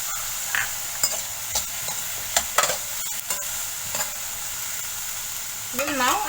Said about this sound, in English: 1 teaspoon garlic paste. Saute well.